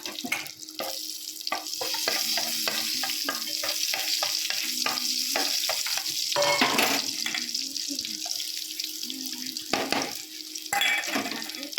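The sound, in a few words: chilies frying in hot mustard oil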